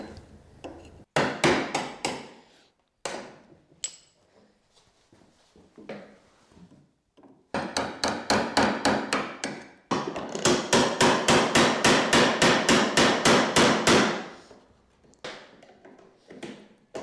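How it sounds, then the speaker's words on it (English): A new foot peg is hammered into an antique dresser with a faux wood finish, with clusters of sharp hammer blows in quick, steady bursts that build into a long run of rapid strikes, close and loud, with short pauses between. "so that I do have a good surface to hammer a new foot peg into"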